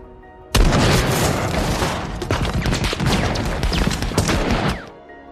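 Heavy gunfire erupts suddenly in a war film battle scene, a loud, sustained barrage of overlapping shots and booms that rumbles on for several seconds before cutting off.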